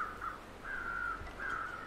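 Crow cawing in the wintry survival game The Long Dark, three drawn-out harsh calls spaced evenly at moderate distance over faint wind, with no one speaking.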